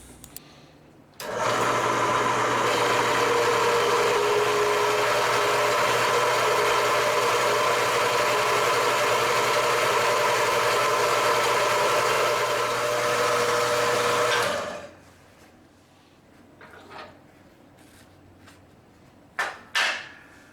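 A bandsaw cuts steel stock for a homemade C-clamp, running with a steady loud hum and grinding whine for about thirteen seconds before winding down, followed by faint workshop clatter and a couple of knocks.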